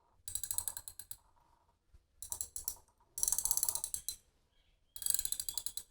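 Daiwa 24 TD Black MQ spinning reels in 2500 size are cranked in short bursts, giving a quiet, close, rapid ticking and whirring from the gears and mechanism, with pauses between each spin.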